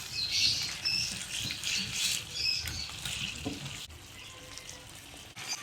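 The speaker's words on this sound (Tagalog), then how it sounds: "Haluin lang natin." A shrimp dish is mixed with mayonnaise, producing quiet, close, wet squelching and patting stirs in a continuous irregular rhythm, with no talking.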